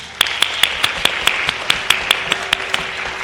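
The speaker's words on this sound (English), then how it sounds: "we'd like to give the entire cast and crew of Diversion and all of the teachers a big round of applause" An audience at a school committee meeting claps for the cast and crew of a school theater production, with a steady run of evenly spaced claps over a bed of scattered clapping.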